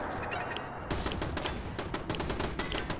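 Rapid gunfire in Fallout 4, with a turret firing nearby in a modded horror run: a dense, loud stream of shots that starts abruptly after a brief lull and keeps crackling to the end.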